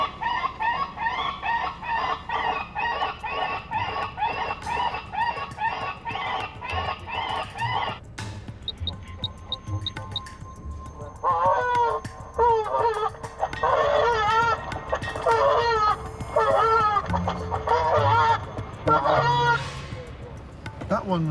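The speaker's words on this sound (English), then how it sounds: "very distressed goose." Recorded goose distress calls played at Heathrow Airport to scare off birds: repeated harsh, strained honks and squawks in rapid bursts, loud and close, broken by a short pause midway.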